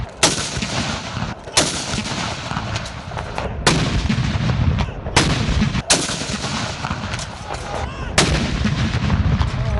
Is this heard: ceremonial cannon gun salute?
yes